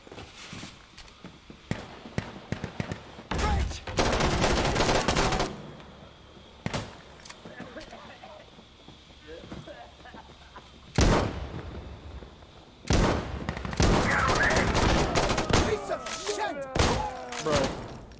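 Gunfire in the FiveM video game comes in sharp, loud volleys and bursts separated by quieter gaps, with a few single thuds and some voice activity mixed in.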